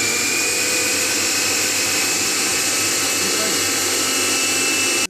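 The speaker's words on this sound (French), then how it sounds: "Je vais maintenant les mixer en marmelade." A blender whirs continuously at high speed, purée-ing hot pan-fried apples into a light compote; the steady, loud motor drone holds for several seconds and cuts off sharply at the end.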